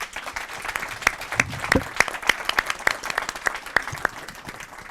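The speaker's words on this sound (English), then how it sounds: "I think we should give a round of applause" A conference audience at a Baltic Sea Region security event gives a round of applause, scattered sharp claps in an uneven patter rather than a dense roar, close and moderately loud.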